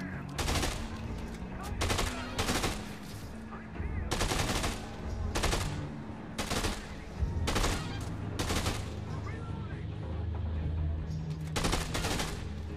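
Repeated bursts of automatic gunfire in the video game Dead Rising 2, loud rattling volleys in irregular rhythm with game background noise and some talk.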